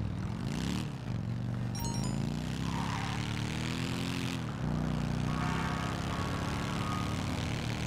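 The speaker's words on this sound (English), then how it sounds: "I'll test drive this bike, see how it is." A motorbike engine in GTA during a test drive, droning steadily and loud throughout, its pitch rising and falling as the throttle changes, with no talk.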